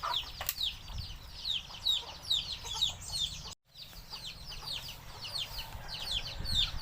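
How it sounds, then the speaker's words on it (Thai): A busy flock of Thai native chickens clucks and chirps continuously close by, with steady overlapping calls. "นี่ไก่"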